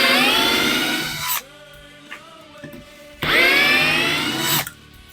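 A Bosch Pro 12V drill driver driving a wood screw, two loud close bursts of whining motor each lasting over a second, separated by a quiet gap with faint handling clicks.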